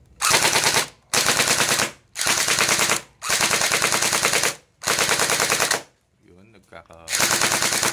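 A Cyma/Jund JD100 M4 CQB airsoft gun fires full auto at cardboard in five rapid, loud, close bursts. The bursts are split by short gaps, with a faint mechanical clatter in one pause.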